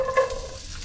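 Chopped onions for chili sizzle in a hot pan, a brief close hiss that starts loud and then settles into steady frying.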